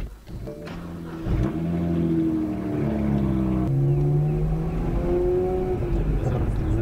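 A car engine revs up with rising tones, drops briefly as a gear changes, then climbs again, loud and close from inside the car.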